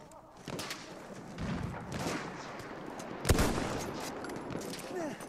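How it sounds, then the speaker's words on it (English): Bursts of .50 cal machine gun fire in Battlefield 1 mixed with other battle noise, with scattered shots, a sharp heavy blast midway and a rolling busy soundscape that is fairly loud. "Let's see what this 50 cal can do"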